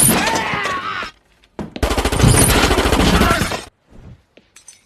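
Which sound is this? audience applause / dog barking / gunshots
gunshots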